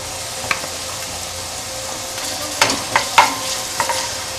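Onion browned in a pan with a spoon each of tomato paste and pepper paste, giving a steady low sizzle under several sharp spoon scrapes and taps against the pan.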